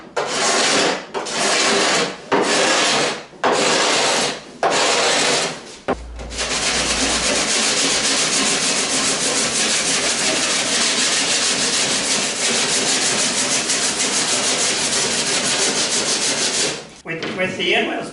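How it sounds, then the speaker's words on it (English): Cabinet scraper dragged over cured epoxy on a wooden boat under construction, several separate rasping strokes at first, then one long continuous close scraping run, loud and steady with no talk. "I'm just going to take my cabinet scraper and give it all a good"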